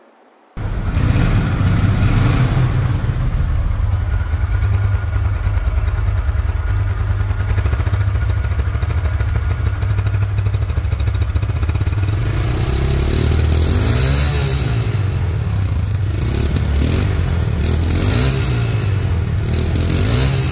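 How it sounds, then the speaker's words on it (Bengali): A used 2022 Hero Ignitor motorcycle engine starts up and then runs steadily and loudly close by for about twenty seconds, with a rougher, fluttering patch of revs near the end and no voices. "এখন গাড়িটির সাউন্ড শুনবো আমরা"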